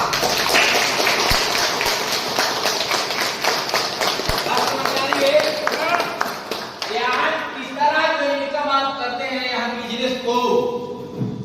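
A large audience at an AWPL business plan meeting claps loudly in a dense, sustained burst for several seconds, then the applause thins out under someone speaking.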